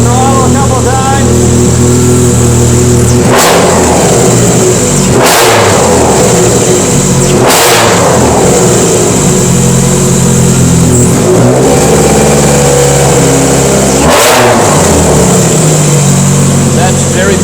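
Porsche 944 big turbo engine at its first start, idling loud and rough, then revved hard in four sharp throttle blips with short pauses between, the steady engine drone filling the gaps.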